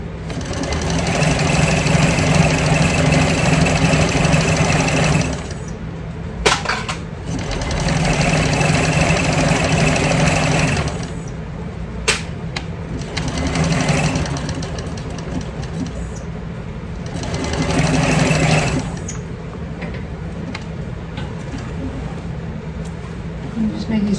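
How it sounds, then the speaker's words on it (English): Sewing machine stitching a handbag, running in several sustained bursts with short backstitch pauses between them, fairly close and loud. "I'm just making sure I backstitch at the beginning and end of my top part and at the bottom."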